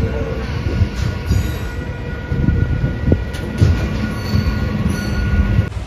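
A MEMU passenger train, the Diva-Khed-Chiplun 01155, rolls along with a continuous loud rumble, rhythmic wheel clatter and faint squeals of wheels on rail, heard from aboard or close by with no talk.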